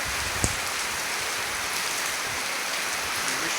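Dense, heavy rain falls without letup, loud and close, with a brief tap near the start and a thick wash of water noise throughout, no voices.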